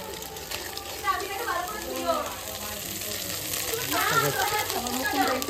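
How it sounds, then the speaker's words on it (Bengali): Fish frying in hot oil in a home kitchen, a steady crackling sizzle running through the whole stretch with voices faintly underneath. "ভালোই ভাজা হয়ে গেছে। রাম মাছ ভাজা খাওয়ার জন্য বসে রয়েছে"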